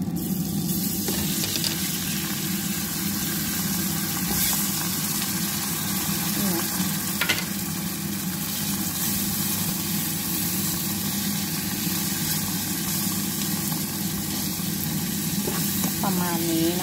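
Canned Norwegian fish stir-fried in a pan with chilli flakes, giving a steady close sizzle with occasional stirring scrapes over a constant hum of a kitchen extractor fan; someone speaks intermittently.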